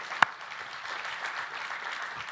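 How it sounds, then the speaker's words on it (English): A conference audience claps steadily, a dense and fairly soft wash of applause from a room of people, opened by one sharp nearby clap. "So I want to give all of you a round of applause for being here today."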